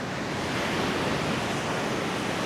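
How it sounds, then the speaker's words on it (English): Big ocean waves pound a beach at Ahtopol or Sinemorets on Bulgaria's Black Sea coast in strong wind, a dense, constant roar of surf and gusts with no voices. "It was a relatively strong wind with big waves."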